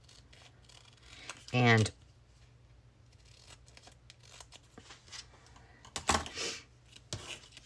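Scissors cut through page pebbles for a junk journal in two brief, close snips separated by quiet handling rustles, with a voice speaking briefly.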